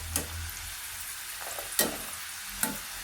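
Wheat flour snacks frying in hot oil, a soft steady sizzle with a few sharp clinks and stirring scrapes from a utensil at the pan, close by and without talk.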